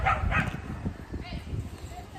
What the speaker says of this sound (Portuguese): Então vocês vão escutar alguns latidos, né, do pessoal que se mantém cachorreiro.